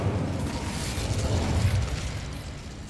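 A fire spell cast in the Hogwarts Legacy video game gives a dense, steady roaring burst with low rumble that holds for about three seconds at full strength, with no talk over it.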